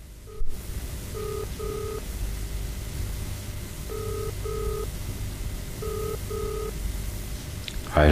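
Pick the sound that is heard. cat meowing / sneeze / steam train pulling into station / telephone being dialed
telephone being dialed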